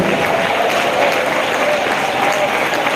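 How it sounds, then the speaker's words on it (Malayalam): A congregation at the Maramon Convention claps steadily in a continuous, dense wash of hand claps, with a preacher's voice carrying over the noise. "മൊബൈലിനകത്ത് വെച്ചിട്ട് കൈയടിച്ച് ദൈവത്തെ മഹത്വപ്പെടുത്താൻ"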